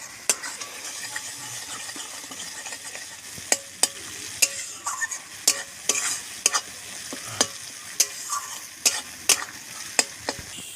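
Spice masala stir-fried in mustard oil in a pan: a steady, close sizzle broken by repeated sharp spatula scrapes and taps against the pan, coming every second or so with no talking.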